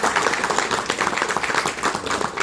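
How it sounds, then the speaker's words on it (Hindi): A gathering at a religious darbar (spiritual assembly) breaks into welcoming applause, a steady wash of many hands clapping at once that fills the space evenly throughout. "सबने उनका एक बार तालियों के साथ स्वागत करना है।"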